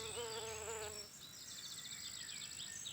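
Mason bees buzzing around flowers, close wavering wingbeat drones that bend in pitch as the insects pass by and fly off, over a quiet outdoor background.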